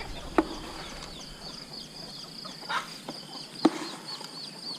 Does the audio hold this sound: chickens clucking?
yes